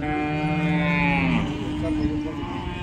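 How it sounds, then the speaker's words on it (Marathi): A cow moos at a busy rural cattle market, one long, loud, low bellow that rises in pitch and then breaks off, with crowd noise continuing afterward. "शेतकरी मित्रांनो ही एक गाय आहे."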